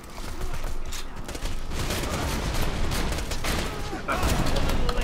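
Rapid, sustained turret gunfire in the shooter video game Borderlands 2, a dense, loud stream of shots with mechanical clatter that never lets up.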